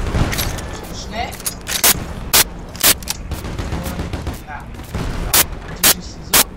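AS-VAL rifle shots in Battlefield Play4Free crack out as loud, separate single shots at roughly half-second spacing, in two groups, over a background of game noise and a speaking voice.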